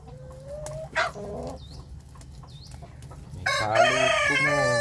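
Chickens cluck and a gamecock rooster crows loudly near the end, with scattered short calls and bird chirps before it, no talking.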